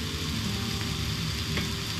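Homemade sushi pieces fry in hot oil in a pan, giving a dense, steady sizzle with faint crackles and no talking.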